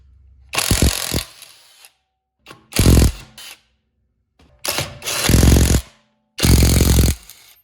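An impact wrench whirs and rattles on a car wheel's lug nuts in four short, loud bursts with brief silences between them, close by.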